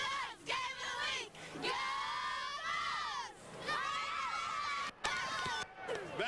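A cheerleader and crowd cheer at a 2000 high school football game between Baker and Belaire Bengals, with loud overlapping shouts and yells that rise and fall in bursts, with brief dips between.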